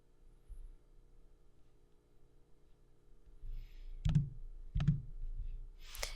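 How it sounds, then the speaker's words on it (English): Mouse clicks while picking drop-down menus in Power BI Desktop on a computer, two sharp close clicks about a second apart over a quiet room hum, with faint handling noise before them. "Just clicking some drop downs and picking the fields that you want to connect them to."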